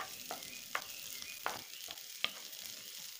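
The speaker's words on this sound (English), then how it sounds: "I'll add some onions to it and fry for about" Onions frying in hot vegetable oil in a pot, a steady quiet sizzle with a few stirring clinks and taps spaced through it, heard up close with no talking.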